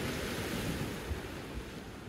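Black Sea waves wash onto the shore at Sochi on an early November morning, a steady, soft, continuous surf wash with some wind noise and no voices.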